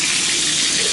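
A reglazed bathtub tap runs at strong pressure, a loud, steady, close gush of water pouring into the tub without pause.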